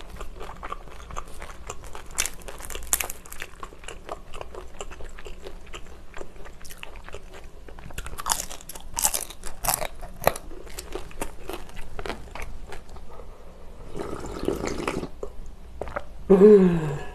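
Fried pollock-roe dumplings crunched close to the mic, with repeated crisp bites and wet chewing, a mukbang setting with no talking.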